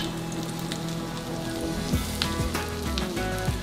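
Chicken for ayam geprek frying in hot oil, a steady close sizzle with scattered pops and crackles throughout.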